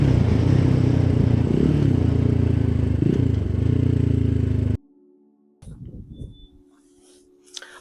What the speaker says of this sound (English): The bike is performing wonderfully.